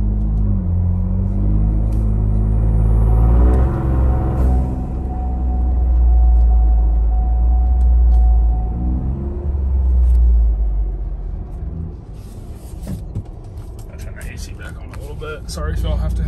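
Ford Bronco with a DIY blow off valve lugging in manual gear: a loud, deep engine rumble rises and falls, with a hiss-like release and rattle toward the end.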